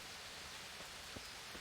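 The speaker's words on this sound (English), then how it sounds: "Oh, it's raining." Steady, soft hiss of rain falling in Kingdom Come Deliverance, an even wash of drops with a few faint patters, quiet and continuous with no one talking.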